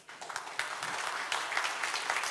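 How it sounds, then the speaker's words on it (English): Audience applause at an Oppo Reno2 smartphone launch event: a dense, steady patter of many hands clapping in a large hall, moderately loud, with occasional sharper claps and no speech over it. "I think your claps say it all"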